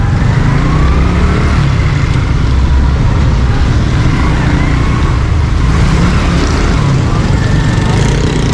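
Congested Karachi road traffic heard from a motorbike: a loud, steady roar of engines and wind with a constant low rumble and occasional horn-like tones, with no clear voices.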